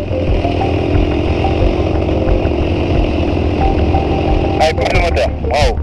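Paramotor engine running in flight, a steady loud motor drone throughout with wind noise, and a voice speaking briefly near the end over it.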